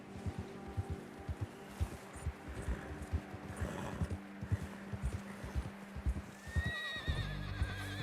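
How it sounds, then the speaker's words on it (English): A horse in the video game Red Dead Redemption 2 clip-clops along in a steady hoofbeat rhythm, then lets out a loud, close neigh near the end; no talking over it. "Apparently my horse is having a hard time."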